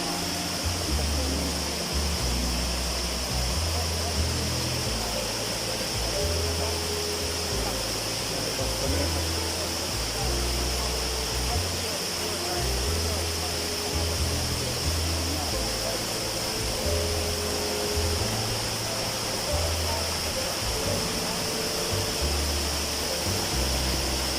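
Pa Wai waterfall, a red-water falls in Thailand, roars in a steady broadband rush that fills the whole clip, loud and continuous, with a low rumble underneath and no voices standing out.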